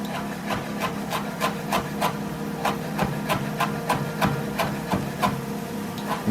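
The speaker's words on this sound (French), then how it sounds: "On va hacher la coriandre le plus finement possible." A knife rapidly chops rolled coriander leaves on a cutting board, with steady rhythmic taps about twice a second over a faint background hum, close and moderately loud.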